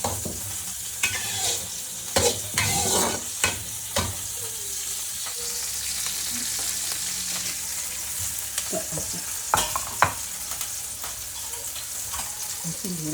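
Shallots, green chilies and drumstick leaves sizzling in a pan on a home stove, a soft, steady fry with occasional scrapes and clinks of a spoon stirring.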